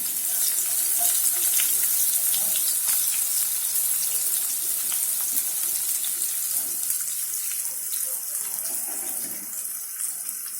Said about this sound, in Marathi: मिरच्या झाल्या की याच्यात आपण अर्धा चेपलेला कांदा टाकून घेऊया